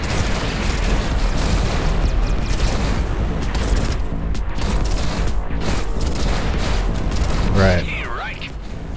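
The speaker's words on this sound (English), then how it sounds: "Alright, now let's figure out who else is shooting me." Spaceship weapons and explosions in Everspace 2 make a loud, dense wall of booming blasts and rapid fire, with a voice talking over the combat.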